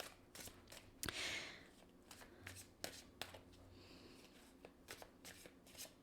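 Oracle cards being shuffled and drawn, with a dense run of quick riffling and soft card flicks close by and a brief louder burst near the start, and no talking.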